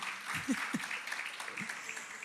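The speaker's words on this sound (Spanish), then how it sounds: "Denle un aplauso al Señor para que se animen" Applause from a church congregation for the Lord, a steady wash of clapping with a few low voices or thumps poking through.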